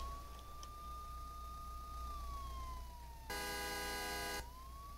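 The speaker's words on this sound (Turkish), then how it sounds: "adam yemin ediyorum benim sireni duydu herhalde" A police siren in the game Euro Truck Simulator 2 Multiplayer, a steady wailing tone rising and falling over a low engine hum, joined midway by a loud, harsh horn-like blast for about a second.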